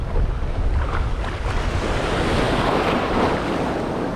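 Ocean surf swells breaking on a beach while surf fishing, a loud continuous roar of crashing waves and rushing foam, mixed with wind buffeting the microphone.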